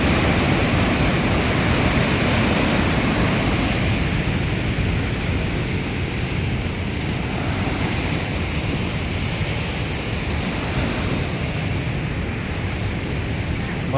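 Water rushes out fast in a loud, dense, continuous roar that stays steady from start to finish, with no talk over it.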